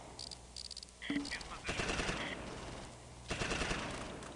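Gunfire in the Close Combat Normandy invasion game, Allied airborne against Fallschirmjäger: quiet bursts of machine-gun fire and scattered shots, with a faint voice in the background.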